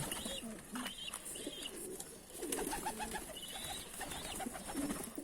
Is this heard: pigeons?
yes